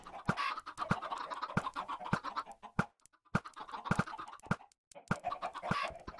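Minecraft chickens clucking in short, repeated bursts with scratchy rhythmic clicks between them, fairly close and clear, with no talking over them.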